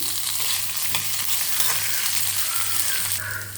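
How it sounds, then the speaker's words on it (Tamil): Urad dal, tamarind and salt dry-roasting in a pan for a radish chutney, a steady faint scratchy rustle and light crackle as the mix is stirred, with a low hum underneath and no voices. "இதை நல்லா செவக்க வறுத்துப்போம்."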